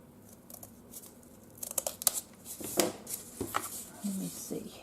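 Scissors snip paper for a mixed media birdhouse art panel, a few short close cuts and crisp rustles, with a person speaking quietly around them.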